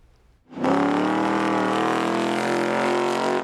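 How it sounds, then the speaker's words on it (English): An autocross race car at a Sports Car Club of America event in a metro park, its engine revving: after a quiet lead-in, a loud, close, sustained engine roar kicks in and holds steady to the end, with no voices. "The Yellowstone chapter of the Sports Car Club of America revved their engines at Metro Park today"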